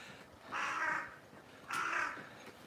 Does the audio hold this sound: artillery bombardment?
no